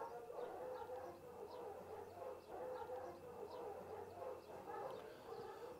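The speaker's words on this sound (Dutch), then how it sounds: "Wat we nu horen, dat zijn de honden van de bewakingsdienst." Guard dogs of a security service at Soesterberg in the Netherlands bark and howl together, a somewhat distant, continuous chorus of overlapping yelps and drawn-out howls lasting several seconds.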